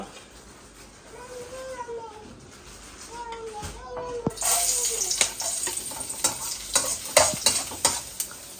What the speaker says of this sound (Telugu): ఇదిగో ఇందులో ఒక టేబుల్ స్పూన్ ఆయిల్ పోస్తున్నాను ఏదో నూనె వేడెక్కిందండి